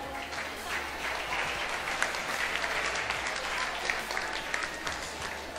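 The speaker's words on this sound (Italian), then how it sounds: "Un applauso" Applause from the audience at a Miss Borgo beauty pageant, a steady patter of many hands clapping at moderate distance, fairly soft overall and continuing for several seconds without talk.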